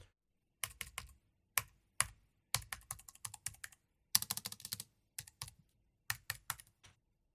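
An email address is typed on a computer keyboard in quick, crisp bursts of keystrokes separated by short pauses. The clicks sound close and fairly quiet in an otherwise silent room.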